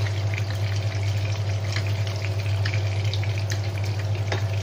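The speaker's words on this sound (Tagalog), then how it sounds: "I-half cook lang natin itong egg para masarap" An egg frying in a pan, cooked only halfway so the yolk stays soft, gives a steady, close crackling sizzle that runs throughout over a low, constant hum.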